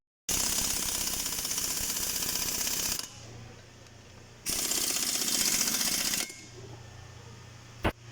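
Bursts of ratcheting on a bolt at a Suzuki Dzire transmission during axle oil seal replacement, two long steady runs of about three seconds each separated by quieter pauses, close and loud.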